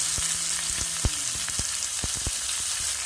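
Sun-dried mango pieces are stirred in a kadai for a sweet, sour and spicy mango pickle, a constant loud sizzle broken by a series of distinct knocks and scrapes from the spoon.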